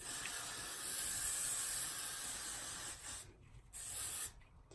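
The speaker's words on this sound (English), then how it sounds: "so a little bit of freeze spray." A steady, close hiss of hair freeze spray aerosol runs for several seconds, then breaks into a few short bursts with brief pauses between them.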